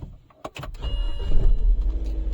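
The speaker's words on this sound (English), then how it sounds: "So what we're going to do is turn on the car." A car engine starting: a couple of sharp clicks, then the starter cranks and the motor catches into a loud, steady close idle, with no talk.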